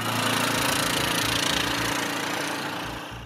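Engine of a Bajaj Qute quadricycle while driving at around 55, a steady buzzing, slightly knocking mid-pitched drone heard from inside, loud and constant, easing off a little near the end, with no talk.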